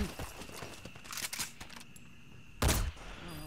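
Gunfire in Metal Gear Solid V, a few muffled shots amid game ambience, with one louder, heavier burst near the end.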